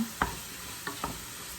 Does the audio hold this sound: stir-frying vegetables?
yes